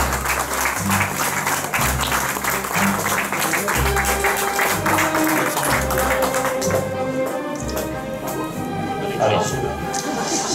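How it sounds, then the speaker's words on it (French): Applause for a second-prize winner at a 2018 festival, a crowd clapping over loud music with a thumping bass beat and sustained tones, with voices mixed in. "Bravo, on applaudit, hein"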